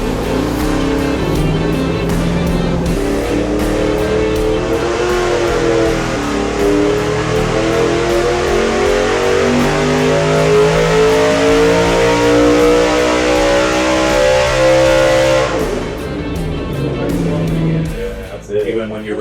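An 8,000-RPM 5.0L LS V8 on a dyno climbs in a long, loud sweep from low rumble to a high wail, holds near the top, then cuts off and drops back, very close and dominant.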